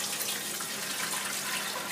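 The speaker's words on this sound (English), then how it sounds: "now I'm going to fill up a big, huge pan with some water for the pasta" A kitchen tap runs steadily, filling a big pan with water for pasta; the gushing is loud, close and unbroken, with no talking.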